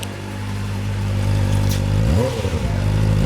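A 2025 Kawasaki Ninja ZX-4RR motorcycle engine idles steadily up close, then blips into a quick, loud rev that rises and falls back within a second, with no talking.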